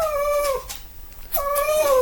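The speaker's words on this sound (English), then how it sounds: "My dog, he's going to whine." A dog whines in two drawn-out, high, wavering cries separated by a short quiet gap, close and loud with no talk over them.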